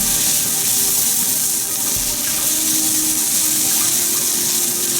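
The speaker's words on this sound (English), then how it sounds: "fry these onions till it's just starting to turn golden brown" Sliced onions sizzle in a hot pan while cooking for a Tanzanian fish curry, mchuzi wa samaki, just turning golden brown and starting to caramelize. The hiss is steady, close and loud, an unbroken crackling wash with no voices over it.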